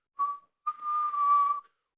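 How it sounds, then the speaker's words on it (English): A thin, high tonal whistle from a Tesla Model Y Juniper comes in two bursts, a short one followed by a longer sustained tone, faint against silence. "whistle noise."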